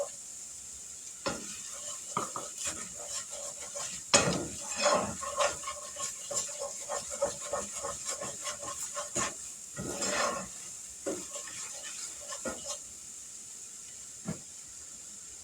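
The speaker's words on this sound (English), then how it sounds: "We're going to let this cook for just a minute to cook off that raw flour taste" Flour cooking in sausage fat in a pan, with a steady close sizzle and repeated scraping stirs of a utensil against the pan throughout.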